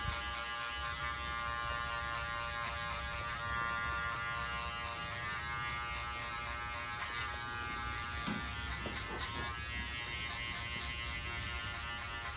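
Electric hair clipper buzzes steadily throughout, running close and continuous while cutting hair for a quick mid fade in a barbershop, with faint shifts as the clipper is tilted upward.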